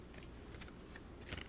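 Scissors snip through paper while trimming the ends of a scalloped cutout for a handmade onesie card, two or three quick, crisp cuts close up in a quiet room.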